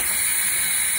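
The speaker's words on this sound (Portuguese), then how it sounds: "Tirando a pressão da minha panela de pressão da Tupperware. Ó, vaporzinho." Steam hisses steadily out of the valve of a Tupperware pressure cooker holding pasta, a loud, continuous, close-up hiss that fills the short moment alone, with no voices.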